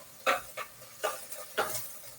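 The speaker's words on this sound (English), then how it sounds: "So go ahead and give that a stir bit." Soup cooking in a pot on high heat is stirred with a utensil, giving four or five soft scraping strokes at an uneven rhythm over a faint background hiss.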